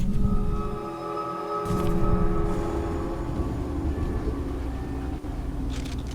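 A train in the video game Choo Choo Charles rumbles along steadily, with a low mechanical drone, tonal hum and a brief squeal, loud and continuous, with no talk over it.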